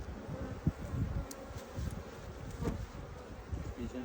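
Honeybees buzz quietly during a first hive inspection, a soft continuous hum of many bees with faint rustling and small handling knocks nearby.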